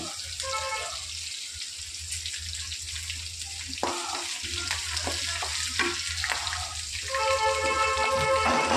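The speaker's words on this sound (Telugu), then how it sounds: "చూడండి, నువ్వులు వేసాను, జీలకర్ర వేసాను" Sesame seeds and cumin seeds sizzle in hot oil in a home kitchen, a steady close frying hiss with a few clinks and stirring knocks partway through, and no speech.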